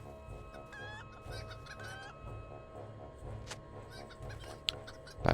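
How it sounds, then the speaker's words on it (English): Chicken in Lord of the Rings Online clucking in a few short bursts over a low game ambience, close and moderately loud, with faint clicks between. "Chicken."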